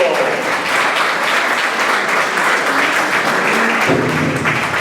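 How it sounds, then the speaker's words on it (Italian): Loud, sustained crowd applause at an outdoor carnival mock trial and burning of the old woman effigy in Ponzano Veneto, many hands clapping steadily, with a faint voice emerging near the end. "Un altro bel applauso."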